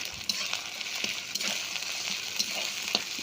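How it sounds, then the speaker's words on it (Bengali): Ginger and garlic paste fries in hot oil with a steady, close sizzle while a spoon stirs it in light, repeated scrapes, with no talking. "দুটোকে ভালো করে মিক্স করে নেব এবার ভালো করে কষাতেই হবে"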